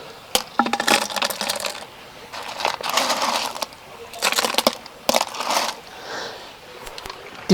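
Stones clatter and grind as they are set into the top of a homemade garden water feature, coming in several bursts of sharp clicks and scraping close by, with short pauses between them.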